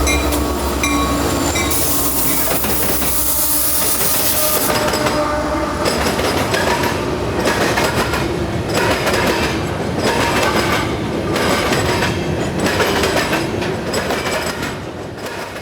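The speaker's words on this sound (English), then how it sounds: "to see a train roll through here this late" A freight train carrying potash from Canada rolls through late in the day, its wagons clattering in a steady rhythmic clickety-clack close by, with a horn blast and wheel squeal near the start.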